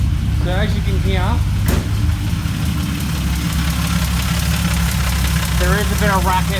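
A car engine idles steadily with a knocking racket coming from inside it, a loud, close, continuous rumble with a sharp click partway through and faint squeaky background tones.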